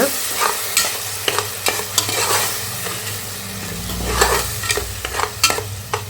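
Spice paste frying and sizzling in a pan for a country chicken curry, stirred steadily with a spoon scraping at regular intervals, close and fairly loud, with no talking.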